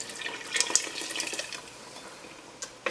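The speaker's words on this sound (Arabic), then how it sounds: "دونك صافي زدت الماء" Water from a tap pours into a pot of tomato sauce in a home kitchen, a splashing, trickling stream that is strongest early and tapers off, with a few clinks near the end.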